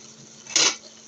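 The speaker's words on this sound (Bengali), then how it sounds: "লতিগুলো দিয়ে নাড়াচাড়া করব।" A spoon scrapes once, briefly and clearly, against a pot where taro stolons, jackfruit seeds and potatoes are being stirred, with quiet around it.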